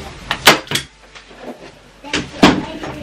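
Two young children, ages 5 and 3, knock on a home office door, giving a few loud, close thumps in two short clusters while an adult voice talks.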